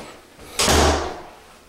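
A flat closet door in a house swings or slides shut with one solid, fairly loud thud and a low rumble that fades, heard alone in a quiet room.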